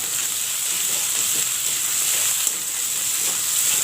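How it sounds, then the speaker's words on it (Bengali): Spice masala frying in oil in a pan for ghugni, a steady close sizzle and hiss running continuously without pause. "অল্প মশলাটা বেশিক্ষণ লাগবে না ভাজতে, ভাজা হয়ে এসছে।"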